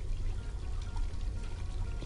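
Running water in the video game Black Mirror 2 pours in a constant, dense splashing stream with a heavy low rumble, steady and fairly loud, with no speech.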